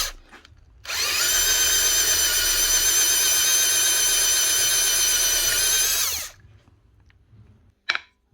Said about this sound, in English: Now, if you can't get them out, drill them out.